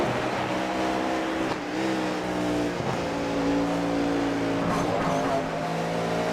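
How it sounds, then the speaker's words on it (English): Two V8 race cars battle in the iRacing sim at Watkins Glen, engines droning loudly with steady pitch shifts as they rev and shift, continuous and close throughout. "Let's just listen into the battle of the 2 V8s."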